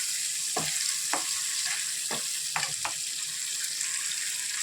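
Tomato gravy for Punjabi chole sizzles and fries steadily in a pan, with several short scraping stirs of a spoon breaking through the constant hiss; no talking.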